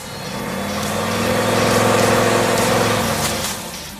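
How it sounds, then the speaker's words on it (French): A 1970 Chevrolet Chevelle SS 454 LS6 muscle car's big-block V8 runs with a loud, steady, deep rumble that swells slightly and then eases off over a few seconds, close and alone. "Voici la Chevelle SS 454 LS6 de 1970."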